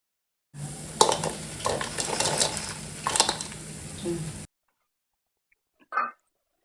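Cooked biryani is mixed in a pot, with close scraping and clinking of a spoon through rice for about four seconds, then silence and a short final scrape.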